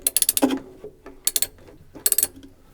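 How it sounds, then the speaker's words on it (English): A ratchet tightens an 8mm bolt holding a washing machine heating element, giving three quick bursts of close, sharp clicking separated by short pauses. "tighten the 8mm bolt to secure the element in place"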